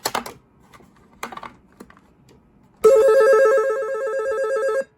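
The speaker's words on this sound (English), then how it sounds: "that little ringer you hear there" After a few soft clicks and taps, a toy telephone's small electronic ringer trills steadily and loudly for about two seconds, a bright buzzy warble up close.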